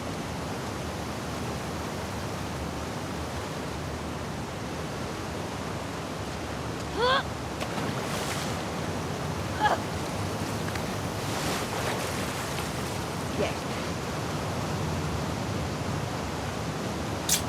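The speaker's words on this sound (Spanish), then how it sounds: "swimming to the aquarium as Ellie when you were avoiding the waves" Ocean waves in The Last of Us Part II, heard as a steady, broad surf wash with wind, a few faint splashes and distant knocks rising briefly above the continuous roar.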